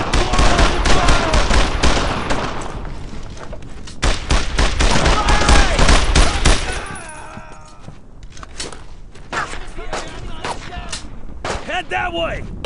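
Heavy, sustained gunfire rattles through a World War II squad battle in Brothers in Arms: Road to Hill 30 at the Foucarville blockade. Dense close bursts give way to scattered shots, with soldiers shouting under the fire.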